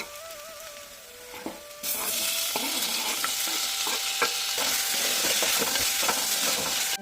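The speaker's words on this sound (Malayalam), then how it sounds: "ഇനി ഇതൊന്ന് മൂത്ത് വരണം അതുവരെ ഒന്ന് ഇളക്കി കൊടുക്കാം കേട്ടോ" Onion and tomato mixture for a mackerel fish curry sizzles loudly in a pan after a quieter start, with steady frying hiss and scattered scraping stirs from a spoon continuing throughout.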